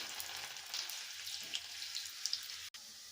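Curry leaves, dry red chillies and cooked onions fry in a hot tempering for dal, a close, even, crackling hiss with a few sharp pops and a brief cut near the end, no talk.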